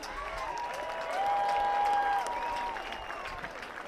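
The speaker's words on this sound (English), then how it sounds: "Round of applause for DJ" A crowd at a minor-league baseball game in Welland applauds a DJ, a soft wash of distant clapping and cheering across the stands, with a sustained organ-like tone ringing over it in the middle.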